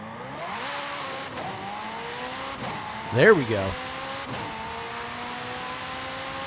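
A race car engine in Forza Horizon 5 hums steadily, then revs up sharply with a rising whine midway, while a person speaks briefly over it.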